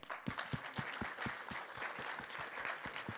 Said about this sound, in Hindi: ताली मार के दिखाओ